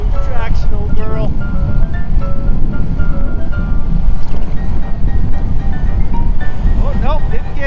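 Vehicle wheels spinning on ice in harsh winter conditions, a loud continuous whine of the revving engine and slipping tyres with rising and falling pitch, with people talking over it.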